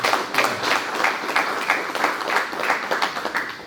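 Applause breaks out at a press conference for people who worked through COVID, a moderate crowd clapping with distinct individual claps and a slightly uneven rhythm.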